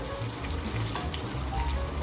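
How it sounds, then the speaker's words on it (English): Jambalaya ingredients sizzle and crackle steadily in a hot pan, a dense, continuous spatter with no voices. "It's still just frying."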